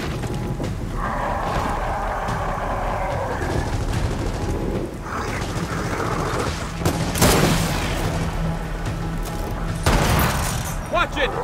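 Sniper gunfire in Gears of War 4, a few sharp cracks and booms, one loud hit near the middle, amid battle noise and voices talking.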